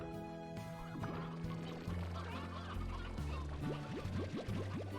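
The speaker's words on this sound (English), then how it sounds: "I really like the noise the chickens make" Cartoonish chickens in the Slime Rancher video game cluck and squawk in short stuttering bursts over a steady backing of game music, fairly loud and close.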